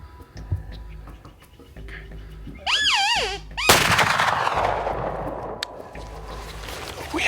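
Rifle gunshot while elk hunting: a single sharp, loud crack with a trailing echo that fades over several seconds outdoors, preceded by a rising, wavering bugle-like call and faint rustling.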